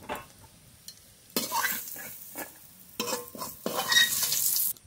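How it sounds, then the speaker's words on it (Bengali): Spice paste fries in oil in a pan while a spoon scrapes and stirs it, giving bursts of sizzling and scraping strokes in a loose rhythm, close up with no talking. "মশলাটা খুব ভালো করে ভেজে নিয়েছি, নামিয়ে নেব।"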